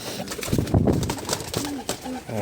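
Pigeons coo softly and repeatedly near a nest of fantail pigeon chicks a few days old, low throaty calls with some rustling and fluttering close by.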